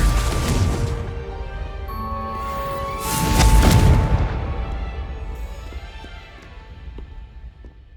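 A Confringo fire spell explodes in Hogwarts Legacy with a loud whooshing boom midway. The blast swells, then fades into a decaying rumble over soft game music.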